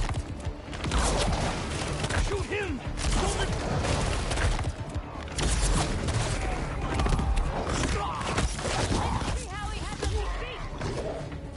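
Gunfire in the Spider-Man 2 video game crackles in dense, sustained volleys over busy game audio, with voices talking throughout.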